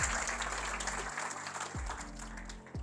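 An audience applauds at a stage talk show, a steady patter of clapping heard at a distance with low music tones underneath.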